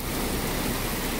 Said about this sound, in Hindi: बिल्कुल तबाही किस्म की बारिश है